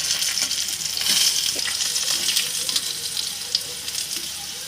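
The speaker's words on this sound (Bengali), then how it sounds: "তাওয়ার পরে এইভাবে করে ভাজবো।" Potatoes frying on a tawa, a continuous bright hissing sizzle with a few soft scraping stirs, close and fairly loud.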